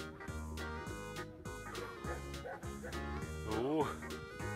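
An agitated dog at an outdoor snow tubing slope barks in quick repeated yips and breaks into a whimpering whine, nearby and fairly loud, while people talk over it.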